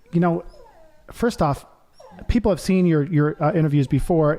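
A pet dog named Cody whimpers and yips at close range, high whiny cries rising and falling, mixed with a person talking over it.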